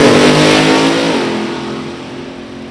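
A drag racing car engine at Gateway Motorsports Park revs loudly and close, holding a steady roar before its pitch drops as the throttle eases and the sound fades.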